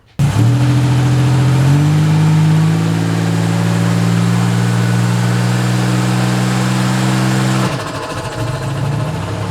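A rough-running car engine, just after a spark plug wire and coil pack repair, cranks and catches, revs up, and holds a loud, steady close drone before dropping back toward idle near the end.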